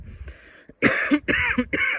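A short run of coughs, three or four harsh bursts in quick succession after a brief quieter throat sound, close to the listener.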